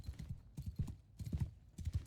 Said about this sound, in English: Horses! Cavalry charge now.